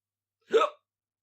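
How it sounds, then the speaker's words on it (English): A single short hiccup, fairly close and clear, standing alone in silence. "Hiccups."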